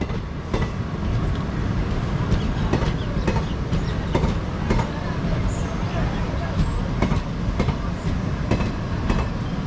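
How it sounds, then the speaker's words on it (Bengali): The Howrah–Katihar Express rolls through Harishchandrapur station in a steady rumble, its wheels clattering rhythmically over rail joints close by, while someone talks over the train noise. "এটা হচ্ছে Katihar express 13033 up, sorry 3334 down"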